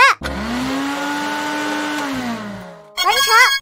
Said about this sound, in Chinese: 搅拌机搅拌